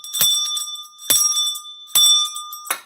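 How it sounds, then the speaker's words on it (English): A hand bell rings three times in steady succession, each strike a bright, clear clang with a sustained metallic tone that fades before the next, followed by a brief final clatter; close and loud, no talking. "I'm going to ring this bell 3 times for you to know that I called you 3 times."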